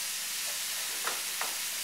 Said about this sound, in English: I'm going to start off with throwing the hamburger meat in here at nice and hot temperature. And I'll let it sizzle up here.